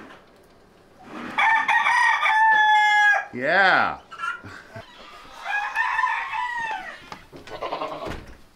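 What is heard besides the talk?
Polish rooster crowing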